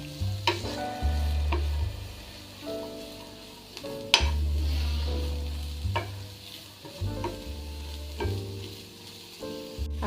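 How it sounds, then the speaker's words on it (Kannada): Carrots and mixed vegetables for paneer momos are stirred in a hot frying pan, with a steady sizzle and repeated sharp scrapes and clinks of the spoon against the pan, close and fairly loud. "ಕ್ಯಾರೆಟ್ ಹಾಕ್ಕೊಂಡು ಈ ಥರ ಎಲ್ಲ ಮಿಕ್ಸ್ ಮಾಡ್ಕೊಳ್ಳೋಣ"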